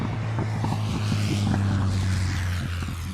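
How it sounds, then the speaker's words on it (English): Big six-cylinder propeller aircraft coming in to land on the tarmac runway at Sywell during an aerobatics championship, a loud continuous burbling engine drone with steady low throbbing, no talk. "Burbling away this big 6-cylinder. Enjoying the long tarmac smoothness of the Sywell runway"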